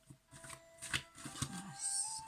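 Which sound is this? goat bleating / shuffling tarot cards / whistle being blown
shuffling tarot cards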